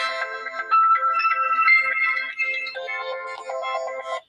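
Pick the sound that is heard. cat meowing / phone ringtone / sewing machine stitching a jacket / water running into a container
phone ringtone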